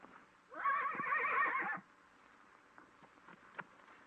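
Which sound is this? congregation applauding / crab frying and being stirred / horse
horse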